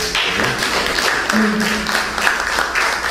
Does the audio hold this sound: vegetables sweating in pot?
no